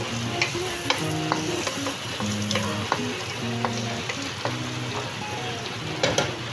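Fried chicken tossed with garlic in a home pan: a steady, close sizzle runs throughout while a utensil scrapes and knocks against the pan in irregular strokes, with no talking.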